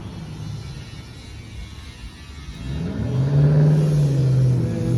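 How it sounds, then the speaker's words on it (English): A loud car approaching on a street outside a garage, its engine rumbling low then swelling sharply into a close, rising roar in the second half as it comes up and passes, no talk over it. "there's this loud car coming up"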